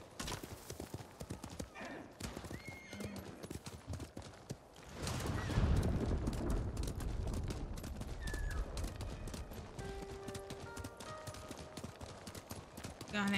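Horse hooves clip-clop in the video game Ghost of Tsushima, a quick steady galloping rhythm of close, crisp hoof strikes under game ambience, bursts of gunfire-like crackle and a brief whinny, with a voice talking over it.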